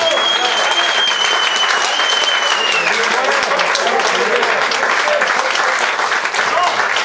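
Dense, sustained audience applause at a concert honoring a young keyboard player, loud and steady throughout, with a faint sustained tone above the clapping and some voices in the crowd.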